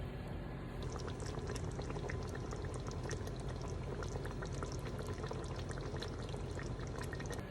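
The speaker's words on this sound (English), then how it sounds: "I'm really just gonna scoop right in all of our broth" Mussel and chorizo broth in white wine sauce being scooped into a big bowl, a continuous wet pouring and bubbling sound with small splashes, close and steady throughout, no voices.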